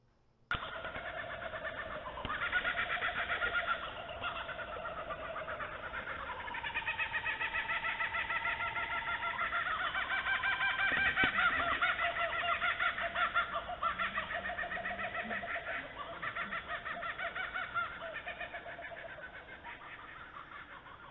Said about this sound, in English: I think this might be a great moment to play the kookaburra sound to you.